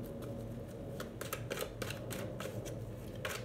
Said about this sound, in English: Let me just quickly shuffle.